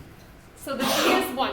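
A single sharp sneeze bursts out close by during a 2021 algebra class, right after a short stretch of a teacher's speech.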